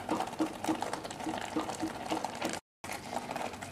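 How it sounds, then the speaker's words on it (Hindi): Plum sauce simmers in a pan on a gas stove, thickening as its liquid cooks down, giving close, soft, irregular bubbling and popping that continues steadily. "it is cooking like you know, it has lots of bubbles coming on it"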